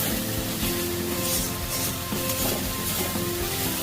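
Spice paste for an egg poach curry fries in a pan, giving a dense, steady sizzle with faint stirring, close and continuous throughout.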